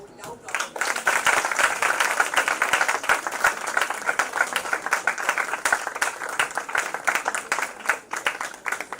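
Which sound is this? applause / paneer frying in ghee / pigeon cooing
applause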